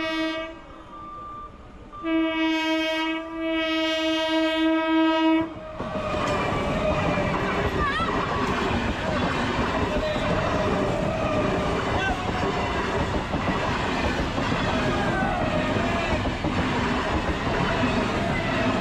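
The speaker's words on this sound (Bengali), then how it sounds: "ট্রেন ঢুকছে এই মাত্র" Train pulling into a station on the route to Tarakeswar, opening with a loud sustained horn blast, then the heavy rumble and clatter of wagons rolling past close by for a long stretch.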